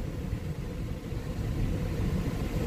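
A car rolls along a farm practice track with a low, steady rumbling engine and road noise, close and continuous with no talk.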